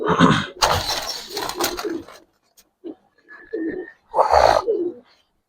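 Giribaz silver pigeons coo in a few short, close bursts separated by quiet gaps, with handling noise and a brief faint whistle between them.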